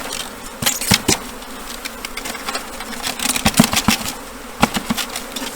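Honeybees from a collected swarm buzz loudly and continuously near a hive box, with individual bees zipping close past in repeated sharp passes over a steady droning hum.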